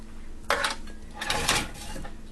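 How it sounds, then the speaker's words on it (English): Metal cutlery clinks and rattles as a small spoon is picked out in a kitchen, a few sharp close jangles over a quiet background. "I'm gonna get a little spoon."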